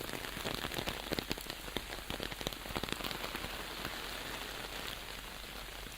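Rain falls steadily during an outdoor walk, a soft, even patter of drops tapping on surfaces nearby, quiet and continuous throughout.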